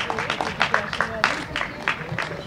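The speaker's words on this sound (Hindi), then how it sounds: "तालियां कमजोर है।" Audience applause at a women's award ceremony in Udaipur honoring a powerlifting champion, scattered, fairly thin clapping from a nearby crowd over steady room noise, with a voice speaking over it.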